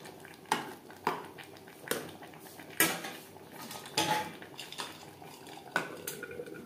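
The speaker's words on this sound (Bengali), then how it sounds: "অবশ্যই এভাবে নাড়াচাড়া করে দিতে হবে।" Food is stirred in a cooking pot over high to medium flame, a series of irregular metallic scrapes and knocks of a spoon against the pot, close and moderately loud.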